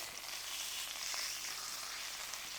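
Beef fillet for beef Wellington sears in a hot pan with a steady, close, continuous sizzle and crackle, no talk over it.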